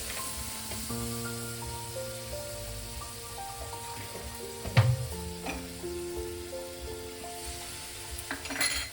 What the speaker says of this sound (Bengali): এবার আমি দিয়ে দেবো এতে এই যে হাফ বাটি নারকেলের দুধ ছিল, এটা দিয়ে দেবো